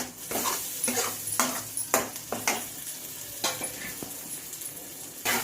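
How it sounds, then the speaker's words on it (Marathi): Tomato masala gravy frying in oil over a low flame, a steady soft sizzle with repeated scraping stirs and light clinks of a spoon against the pan, close up and without talk. "आता या ग्रेव्हीला चांगलं अगदी तेल सुटेपर्यंत याला चांगलं परतून द्यायचं मंद गॅसवर."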